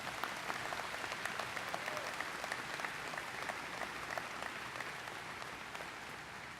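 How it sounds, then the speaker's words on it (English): A crowd at an American Legion Americanism Award ceremony claps steadily for over six seconds, with dense, even applause that neither builds nor fades. "we give him a round of applause"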